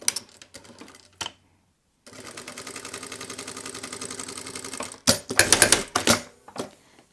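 A sewing machine stitches the last piece of fabric on a fabric passport wallet, running in a steady rapid whir for about three seconds after brief handling clicks, then a louder burst of stitching near the end.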